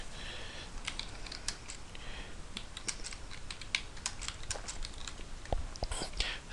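Someone types a help desk ticket subject on a computer keyboard, a quick, irregular run of light key clicks heard close up over a soft background hiss, with a few heavier taps near the end.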